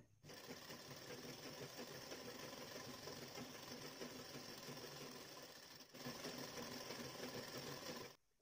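A sewing machine runs steadily while stitching a blouse hem, a fast even mechanical whir that holds for about six seconds, pauses briefly, then resumes and stops.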